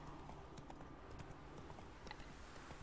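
Horse hooves clip-clop in a steady trotting rhythm as Geralt rides in a video game, faint and even beneath a low ambient bed, with no talking.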